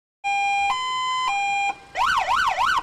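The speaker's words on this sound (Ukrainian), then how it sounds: "Звук сирени у службовій автівці не замовкає" A loud police car siren close by, first a two-tone alternating wail, then switching to a rapid rising-and-falling warble.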